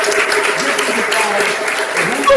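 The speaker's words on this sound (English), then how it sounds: "let's give our scholars another round of applause" An online graduation ceremony for scholars brings a round of applause, with the clapping running under overlapping voices and cheering, fairly close and loud.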